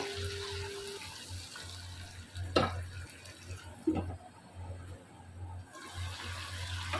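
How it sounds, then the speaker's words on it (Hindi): Water poured from a glass into a pot of browned chicken during a Pakistani-style bhindi chicken recipe, heard as a brief splashing pour with a second short splash, moderately loud over low kitchen hum. "1 गिलास पानी डालकर कवर कर देंगे ताकि चिकन गल जाए।"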